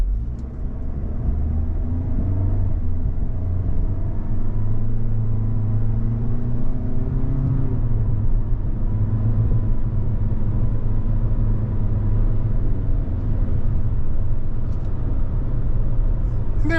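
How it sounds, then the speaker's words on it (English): A 2023 Toyota Corolla Cross XLE AWD engine pulls away from a stop and accelerates up to road speed, a steady low rumble and drone that rises gradually inside the cabin, with no talk over it. "we'll give you an idea what this engine sounds like when we're getting the car up to speed from 0"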